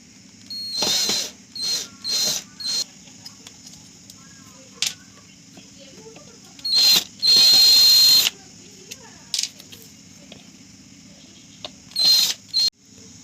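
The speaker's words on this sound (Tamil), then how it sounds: "இப்போ நாம் இந்த ஸ்க்ரூவை ஃபுல்லாகவே கழட்ட போகிறோம்." Short whirring bursts of a power screwdriver backing out screws from the rear panel of an old 5.1 home theater system, several close pulses separated by pauses, with one longer run midway.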